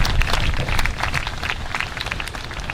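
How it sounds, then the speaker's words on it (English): An audience at a ceremonial event gives a round of applause, dense clapping heard as a steady wash of claps from a crowd, fairly loud and continuous throughout with no talking. "Let's give them a round of applause"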